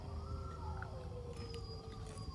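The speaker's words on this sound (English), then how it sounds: "Dogs just howl." Faint, distant dogs howl in long, wavering tones that slide up and down over a low background rumble.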